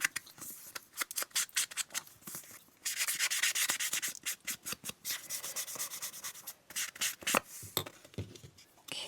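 Paper edges in a journal spread are inked with quick rubbing and scuffing strokes, close and quiet, in uneven bursts with brief pauses, no voices.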